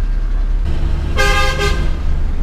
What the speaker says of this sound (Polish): Non stop trąbią, non stop.